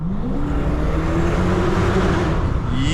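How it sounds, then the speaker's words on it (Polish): A 2009 Alpina B5 S, rated at 530 hp, drives by at speed with a loud, steady engine note that climbs in pitch over three seconds, with no voices. "Jakiś soundcheck, ale no kurczę, ten samochód jest po prostu za szybki na soundcheck."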